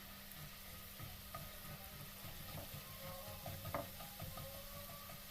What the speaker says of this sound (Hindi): बस 1 टेबल स्पून हमने ऑयल डाला है और 1 टीस्पून शामिल किया है लहसुन का पेस्ट।